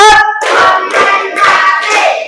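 Classroom ice-breaker clapping game, a group of students clapping hands together in counted rhythmic bursts, about four loud clustered claps close by with short pauses between.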